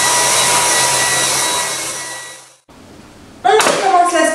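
A vacuum cleaner with rotating brushes runs loud and steady, fades and cuts out briefly, then starts up again with a strong whining roar.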